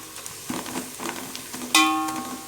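Chilli powder being stirred into biryani masala as it fries in a pan: a steady low sizzle with scraping stir strokes, then a sharper metallic clink and ring near the end.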